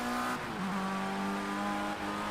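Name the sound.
race car engine revving in video game Project Cars 2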